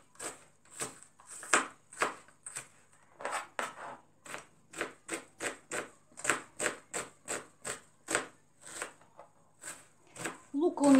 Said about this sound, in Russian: Для этого пирога мы мелко нарежем лук.